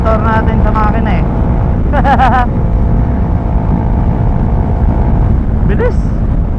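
A motorboat engine runs loudly and continuously on the water near Mindoro, with a steady throbbing drone and wind buffeting. Brief voices break in over the motor at points.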